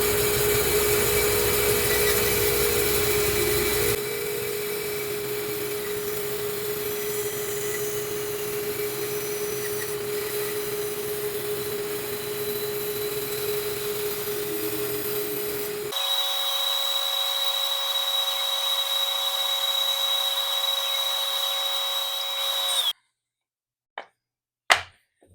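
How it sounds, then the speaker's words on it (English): A bandsaw cuts wood for a DIY router lift: a steady, loud whine with the blade's rasp runs continuously for most of the span, the pitch shifting partway through, then stops, followed by a couple of brief knocks. "so I'm going to cut this out on the bandsaw"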